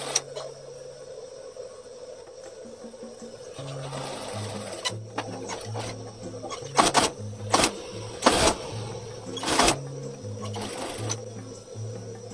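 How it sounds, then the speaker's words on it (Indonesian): A sewing machine stitches the sleeve of a suit jacket, whirring in short runs with stops between them, close by, with sharp clicks and knocks from handling the fabric. "Lalu kesininya kita jahit biasa."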